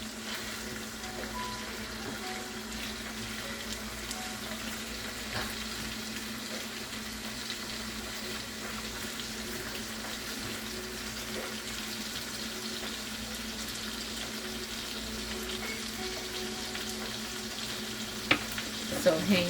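Barbecue-seasoned pork ribs searing in a pan give a steady, dense sizzle and crackle throughout, close and even, with only a couple of brief clicks near the end.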